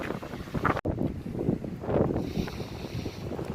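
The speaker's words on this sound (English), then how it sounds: "it is windy." Strong gusting wind outdoors at a Biloxi casino area, roaring and buffeting close against the microphone in uneven surges, with a sharp brief dropout partway through.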